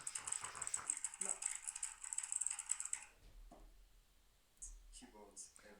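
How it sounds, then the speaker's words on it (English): Clicky mechanical keyboard typing picked up loudly over a live stream microphone, a dense run of rapid keystrokes that stops partway, then a few scattered clacks and voices talking. "We just are hearing your mechanical keyboard very loudly."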